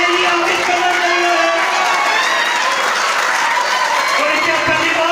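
A church congregation claps in thanks during a service, with continuous dense applause over sustained voices and tones, loud and close throughout.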